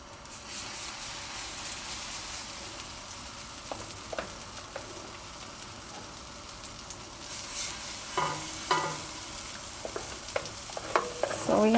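Ripe plantain pancake batter fries in a pan with a continuous close sizzle, joined later by louder scraping and clinking as a utensil moves around the pan, with no talking.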